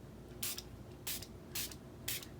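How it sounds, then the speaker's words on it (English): A Stampin' Spritzer filled with plain water gives four short, quiet hissing sprays at an even pace over pigment sprinkles in a papercraft project, each burst a soft airy spritz, with nothing else heard. "So we are going to use a Stampin' Spritzer, and this just has water in it."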